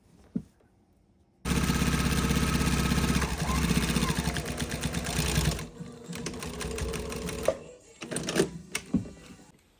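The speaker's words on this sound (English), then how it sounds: "you just continue to sew until you've done this all the way around the outside edge of" A sewing machine stitches around the outside edge of a fleece blanket, a steady loud mechanical whir running for several seconds, then slowing into shorter bursts and a few clicks.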